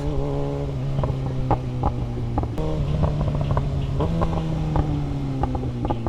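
A revving motorcycle's exhaust lets out a rapid series of sharp crackling pops over a steady, droning engine note, heard up close and fairly loud.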